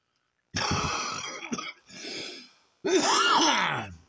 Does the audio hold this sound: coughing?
yes